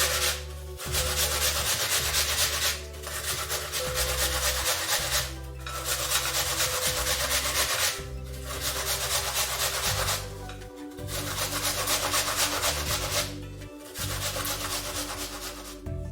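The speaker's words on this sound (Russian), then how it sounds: "Яблоки натираю на крупной терке." Apples being grated by hand on a coarse grater, a steady rasping scrape in repeated strokes with short pauses between bursts, close and alone with no talk.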